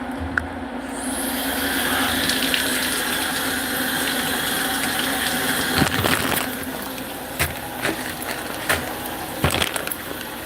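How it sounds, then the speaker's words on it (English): A cold plunge tub's water filter pump runs with a steady droning hum and broadband rush, interrupted by a few sharp clicks and knocks near the end, with no talking. "Run the filter."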